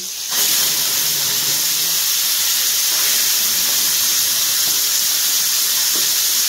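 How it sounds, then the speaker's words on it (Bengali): Loitta fish (Bombay duck) dropped into a hot wok sets off a sudden, loud, broad sizzle that holds as a steady hiss. "তো এখন আমি লোটে মাছটা কড়াই দিয়ে দিচ্ছি।"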